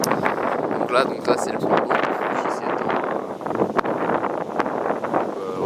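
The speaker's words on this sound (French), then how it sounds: "Il y a peut-être encore un peu le vent." Wind at a lake during camping, gusting and buffeting the microphone in a steady rushing roar under someone speaking French.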